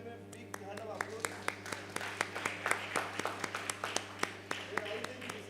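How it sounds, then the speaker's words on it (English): Scattered audience applause at a rheumatology conference session, irregular claps of moderate loudness over a steady hum in a hall, with some voices murmuring beneath. "Please give him a big hand of applause."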